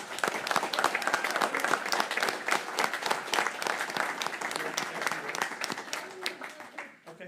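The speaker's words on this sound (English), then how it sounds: "please help me just give another round of applause" A council meeting audience in St. Cloud, Florida gives a sustained round of applause, dense steady clapping from many hands that holds throughout and tapers slightly near the end.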